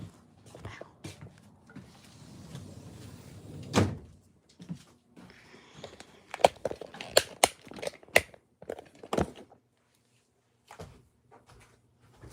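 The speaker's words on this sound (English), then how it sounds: "I'll close the door." A door is eased shut with a soft thud, followed by quiet latch clicks and scattered handling knocks, while people whisper at low volume around it.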